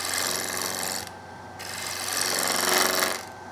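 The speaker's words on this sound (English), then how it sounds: "just doing a pull cut" A gouge makes a pull cut on a square wooden bowl spinning on a lathe, a close, steady rasping hiss that breaks off briefly and resumes, interrupted once by the gaps of the square corners.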